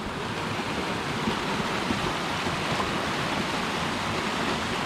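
Water from irrigation canals through pasture land pours over rocks at Ortona COE Park near Moore Haven, Florida, a loud, steady rushing roar without pause or voices.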